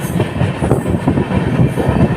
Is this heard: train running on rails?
yes